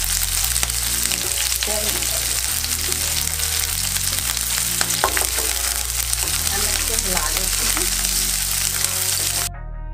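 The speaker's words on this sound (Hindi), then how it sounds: "मिर्ची भी और लहसुन और जीरा मेरा अच्छे भुने गए हैं" Loud, steady sizzling of green chilies, garlic and cumin frying in hot oil, with occasional stirring clatter, close up and continuous until it cuts off at the end.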